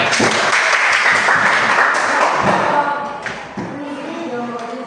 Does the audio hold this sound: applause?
yes